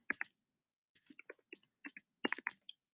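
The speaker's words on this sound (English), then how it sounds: "typing in George Washington" Clicky key presses on a computer keyboard entering a short name, in a few quick bursts separated by brief pauses, close and fairly quiet.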